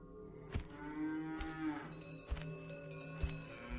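Cows low in a sound effect, long drawn-out moos overlapping one another, with a few soft knocks, close and steady, with no talk.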